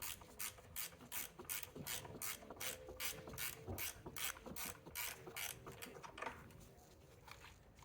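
A ratchet clicks rapidly in steady, repeated bursts, close and clear, pausing briefly between strokes as a 10mm bolt is worked loose on a Chrysler 300 engine.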